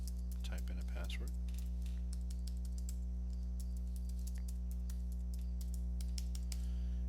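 Fingers tap out a password on a computer keyboard, a run of light close clicks over a loud steady electrical hum, with a brief voice near the start.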